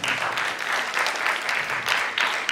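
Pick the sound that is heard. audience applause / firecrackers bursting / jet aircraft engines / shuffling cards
audience applause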